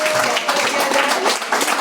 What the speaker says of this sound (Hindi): तालियों से उनका स्वागत किया जाए